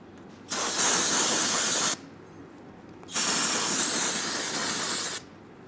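Brake cleaner sprayed onto the rear brake rotor of a 2014 Streetfighter 848 motorcycle: two close, steady hissing bursts of about one and a half and two seconds, separated by a short pause, with no talking.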